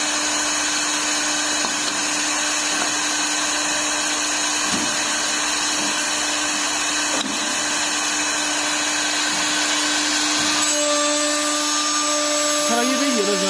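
Spindle of a 4-axis CNC wood lathe running and machining wood, a loud, steady motorised whine with a constant tone, occasional thumps and rising cutting noise, and a brief shift in pitch near the end.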